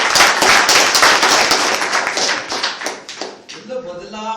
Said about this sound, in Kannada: ದೊಡ್ಡ ಒಂದು ಚಪ್ಪಾಳೆ.